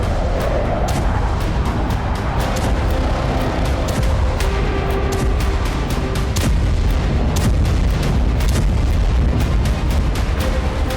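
Explosions at a Russian air and naval base in Crimea: a dense barrage of booms and sharp blasts in rapid irregular succession over a continuous loud rumble, with no voices.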